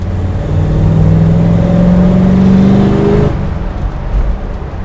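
A 7.2-litre 440 V8 in a 1971 Dodge Challenger R/T with a six-pack and manual gearbox revs up loud and close, holding a strong rising roar for about three seconds before dropping back to a lumpy idle.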